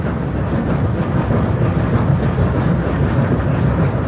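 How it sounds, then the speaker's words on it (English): Two 38-class steam locomotives haul the Western Endeavour train, giving a steady, dense rumble of rolling rail noise with faint repeated clicks of wheels over rail joints. "was the first challenge for the two 38-class locomotives hauling the Western Endeavour"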